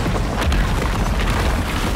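Gears of War 4 battlefield explosions: loud, continuous booming with a dense, roaring low rumble and no clear pauses.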